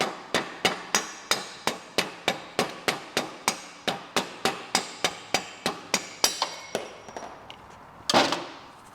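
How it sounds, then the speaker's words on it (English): Sharp metallic hammer blows drive a bolt through on a Piaggio BV400 scooter, about twenty evenly spaced, close strikes in a steady rhythm, then a pause and one final clattering knock. "From the left side, I'm actually driving the bolt through."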